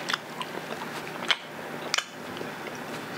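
Close, soft chewing of an Australian chewy candy like a gummy bear, with two or three sharper bites standing out against a quiet background and no talking.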